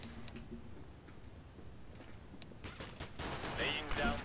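Rapid gunfire from Counter-Strike: Global Offensive crackles in quick bursts, sparse at first and then dense and loud near the end, with a player's voice audible alongside.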